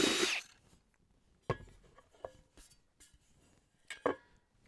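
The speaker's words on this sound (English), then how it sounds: "into the center of this pie tin and drill a hole" A power drill bores a hole through the center of a metal pie tin, a short whir at the start followed by scattered clicks, scrapes and taps of the metal, close and fairly quiet.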